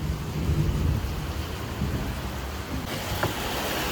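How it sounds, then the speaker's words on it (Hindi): Heavy monsoon rain pours down steadily outdoors, with low rumbling thunder rolling through the background and a few sharper crackles near the end; no one speaks. "आ रही ना बारिश, बढ़ गई थोड़े टाइम के लिए"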